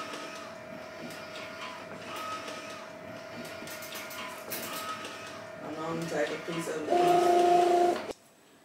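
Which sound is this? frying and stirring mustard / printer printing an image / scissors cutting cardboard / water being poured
printer printing an image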